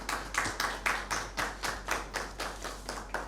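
A mushaira audience at a Father's Day poetry gathering claps for a poet, about a dozen even, rhythmic claps in steady unison, fairly faint and with no voices over them.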